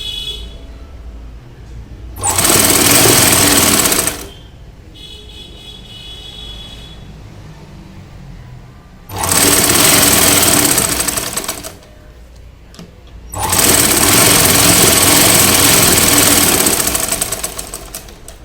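An electric sewing machine stitches a plain blouse piece over an existing seam in three loud, steady whirring runs, each a few seconds long, separated by quieter pauses.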